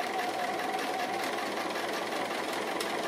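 A sewing machine stitching a food-themed applique, running in a steady quiet whir with faint mechanical ticking, no talking over it.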